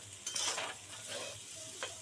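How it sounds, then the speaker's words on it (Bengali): Rice frying in a pan, a soft continuous sizzle with light crackling pops and faint stirring, quiet and close. "একটু ফুটফুট করবে জানবেন ফুটফুট করলে জানবেন ভাজা হয়ে গেছে"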